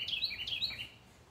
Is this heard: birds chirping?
yes